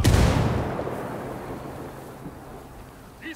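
A grenade blast in the Ghost Recon Wildlands video game, one heavy boom that opens loud and then rolls away into a long fading rumble. A small click follows near the end.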